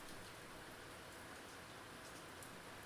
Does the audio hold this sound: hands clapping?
no